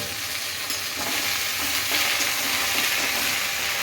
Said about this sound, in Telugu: గోంగూర గోంగూర నూనెలో fry okay oil fry నూనెలా okay